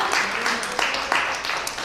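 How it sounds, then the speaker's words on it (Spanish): A church congregation applauding, dense overlapping hand claps in an irregular patter, fairly close and moderately loud, with voices mixed in. "Dale un aplauso a Cristo"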